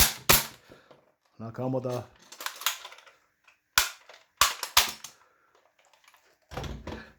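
Hammer-operated toy cap gun blasters fire sharp, loud individual cracks, spaced irregularly in a few quick shots and pairs, with someone speaking briefly between them.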